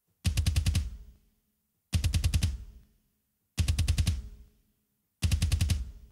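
Double bass drum pedals fire in four short, fast bursts of rapid even kicks, each about a second long and separated by silence, with a slight cymbal or shell ring trailing each burst.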